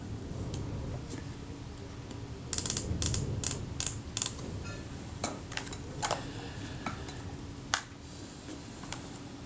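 Film advance lever and ratchet mechanism of a Kodak Retina II type 014 camera under service, small close clicks and creaks in an irregular cluster, with a few sharper ticks later over quiet background.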